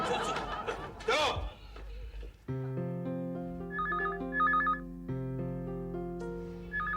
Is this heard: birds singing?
no